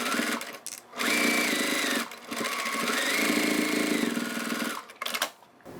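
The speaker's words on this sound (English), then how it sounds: "Now sew on the other side." A sewing machine stitches along the edge of a vinyl crossbody bag in close, loud bursts of rapid running, with short pauses between runs and a brief final burst.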